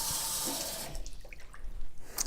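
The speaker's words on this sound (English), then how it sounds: "I'm just going to add the rest of the way water up to the top" Water is poured into a mason jar of fermenting carrots, topping it up to the brim. A steady close splash fills the first second, then it settles into quieter trickles and drips.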